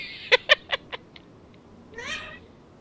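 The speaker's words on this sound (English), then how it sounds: "Yeah, she's meowing at me." A cat gives a series of short, sharp meows, four or five in quick succession that fade in strength, followed by one longer, drawn-out meow, fairly close and with no talking.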